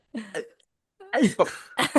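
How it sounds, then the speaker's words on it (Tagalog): A short harsh cough, then a quick run of several more coughs close to the microphone. "Inubo, pare, inubo. Inubo."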